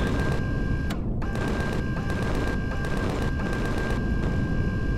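Rapid gunfire from weapons shooting at enemies in the space survival game Empyrion Galactic Survival, a dense continuous stream of close, loud shots with a steady tone running underneath.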